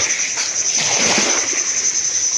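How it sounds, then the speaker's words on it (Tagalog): Broadband wash of sea waves at a beach lot for sale, with a steady hiss and soft swelling surges, moderately loud and continuous with no talk. "ambience ng dagat dito po sa lot 2"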